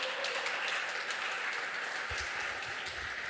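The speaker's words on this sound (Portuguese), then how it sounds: "Vamos aplaudir o Senhor pela vida dele." A church congregation applauds together in a dense, steady wash of clapping that holds evenly throughout, with a few low thumps near the end.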